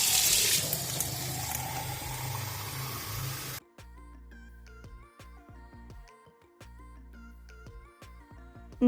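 Water pours from a tap into a container for a money plant in a small kitchen, a steady splashing rush for a few seconds, then stopping and leaving quiet clinks.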